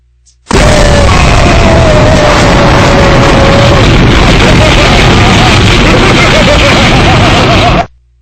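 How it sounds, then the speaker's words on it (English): A loud, sustained roaring explosion sound effect bursts in suddenly and holds at full volume for about seven seconds with a rumbling, distorted body before cutting off abruptly. "I didn't even call for the random explosion effect"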